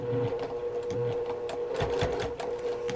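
A sewing machine stitches down a seam on a fabric travel bag, giving a steady close motor whir with rapid needle chatter that runs without pause and with no voices.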